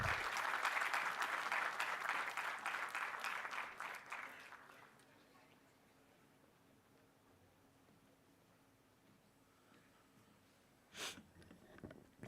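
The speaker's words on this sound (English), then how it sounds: "With a huge round of applause, let us all welcome Dr." Audience applause welcoming a guest speaker at a law school induction event, a burst of many hands clapping that fades after a few seconds into quiet room noise with a couple of soft thumps near the end.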